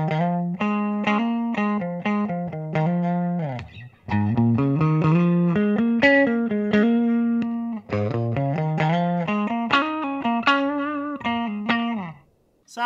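A 2021 Gibson Les Paul electric guitar with a clean, quacky tone plays a run of plucked single notes and short phrases, bright and close, with brief pauses between passages.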